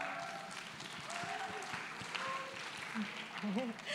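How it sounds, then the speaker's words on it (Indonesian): Audience applause at a beauty festival talk, a faint steady patter of clapping in a hall with voices talking over it. "Boleh tepuk tangannya teman-teman."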